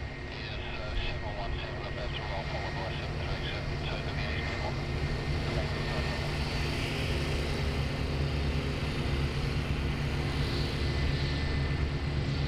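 An airliner arriving and taxiing at Sydney Airport gives off a continuous, fairly distant jet-engine roar. It holds steady and broad for the whole stretch, with no clear rise or fade.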